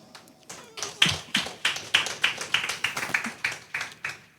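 A few people clapping at a health policy assembly, sparse and close, building into a loose rhythmic patter of individual claps that gradually speeds up.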